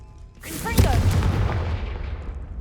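A Confringo spell blast in the video game Hogwarts Legacy lands as a single sharp explosive boom, then a rumbling tail that fades over a couple of seconds.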